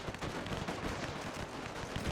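Dense, continuous machine gun fire in the WW1 strategy game Between Empires, a rapid rattling barrage of overlapping shots with a low rumble, steady and unbroken throughout, with no voices.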